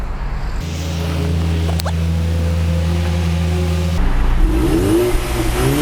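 A 2020 Ford Mustang 2.3 EcoBoost engine idles with a steady low rumble, then revs briefly and settles, with a deep throaty drone throughout; no voices.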